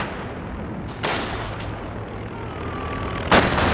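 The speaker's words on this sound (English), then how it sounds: "I will open fire." Gunfire from a World War II Soviet campaign battle in Company of Heroes 2, with a few sharp cracks and bursts spaced out over a steady low rumble of distant battle ambience.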